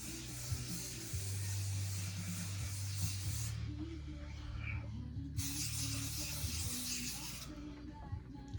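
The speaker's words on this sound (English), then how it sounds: "I'm just going to put some of the John Frieda Frizz Ease Moisture Barrier Intense Hold Hairspray in." John Frieda Frizz Ease Moisture Barrier Intense Hold hairspray hisses from a nearly empty can in two short close bursts, riding over a steady low room hum.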